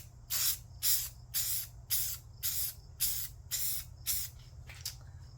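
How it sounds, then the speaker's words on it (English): Gray matte spray paint hissing onto a model railroad depot in about eight short, evenly spaced bursts, close and fairly loud with a steady low hum beneath and no talking. "So I'm going to spray both of them, and I'm going to see which one I like better."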